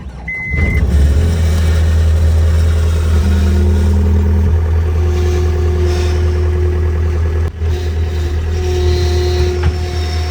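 A skid steer engine running close by on a farm, a loud, steady low diesel drone with mechanical rattle and a couple of brief tonal whines over it, continuous throughout.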